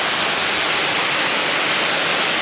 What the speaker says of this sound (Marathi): पाणी जबरदस्त पडत आहे.